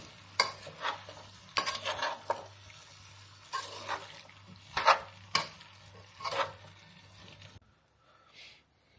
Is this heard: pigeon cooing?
no